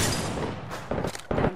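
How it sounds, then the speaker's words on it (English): A thermite grenade thrown in Apex Legends, heard as a burst of rough, crackling blasts and whooshing rumble, with a couple of sharp, loud pops near the end amid dense combat noise. "Throwing thermite grenade."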